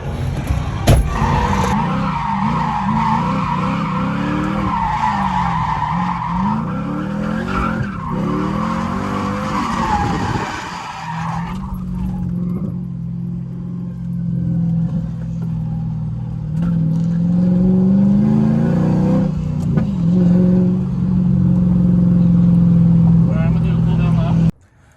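Manual Mercedes CLK55 AMG drifting, with a loud, sustained engine roar and smeared tire squeal through the first ten seconds, then a steadier lower engine drone that builds toward the end.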